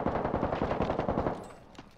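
Rapid automatic gunfire in the Call of Duty Warzone video game (Vanguard Resurgence mode), a dense burst of loud, evenly spaced shots for well over a second before tapering into a fading tail.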